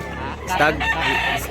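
A year-old Black Hennei stag rooster gives one brief, close crow over a noisy outdoor background, with faint human voices in the mix.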